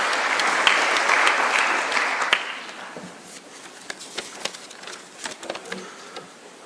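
An audience at an international heritage conference in Gigiri, Nairobi, breaks into applause that swells briefly and then thins to a few scattered claps as it fades out.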